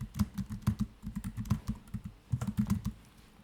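Quick bursts of keystrokes clatter on a computer keyboard, close and clear, in uneven clusters with short pauses between them and no talking.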